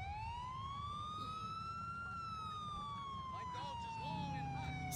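A police car siren in the video game GTA 4 wails in a long rising and falling sweep, loud and close, with other engine and traffic noise joining near the end.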